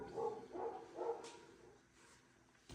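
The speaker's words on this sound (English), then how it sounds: "The neighbor dogs are being very vocal right now." Neighbourhood dogs bark from a distance in three or four spaced bursts early on, then fall quieter with faint background noise and a brief sharp knock near the end.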